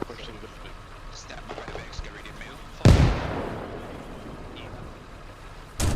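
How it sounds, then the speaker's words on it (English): A grenade launcher fires in the video game Arma Reforger during a winter military operation, one sharp, loud blast followed by a rolling, fading rumble, with quieter background noise before it and another burst starting at the end. "It was a grenade launcher."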